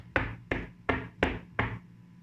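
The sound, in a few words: knocking on a door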